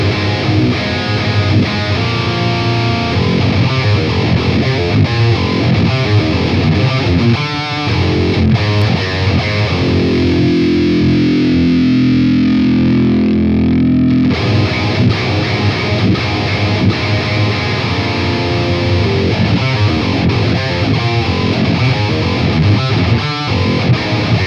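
Electric guitar with heavy distortion played with a Dragon's Heart pick, dense loud chords ringing continuously with a brief thinner passage midway, no talking.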